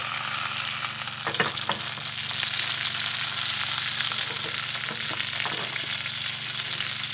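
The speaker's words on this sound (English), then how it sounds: "so they all get a bit of sizzle" Sausages from Donohue Quality Meats sizzle and spit steadily in hot fat and oil over a gas flame, a dense continuous crackle with a few sharper pops.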